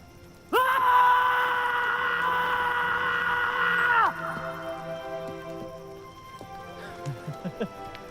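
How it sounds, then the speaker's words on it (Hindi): A loud, sustained scream bursts out and holds for about three and a half seconds before cutting off, followed by quieter fading tones and a few soft sounds, from the 2003 Bollywood film Aanch. "आइए, आज गला फाड़ के जिंदगी को बोल देते हैं,"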